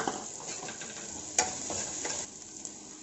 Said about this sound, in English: Now I am putting some chopped ginger, some chopped garlic. Now some chopped onions.